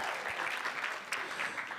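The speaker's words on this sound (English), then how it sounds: "That was really meant for the brown people to start clapping" Audience at a stand-up comedy show in New York claps steadily, a dense patter of many hands filling the room at moderate level for the whole stretch.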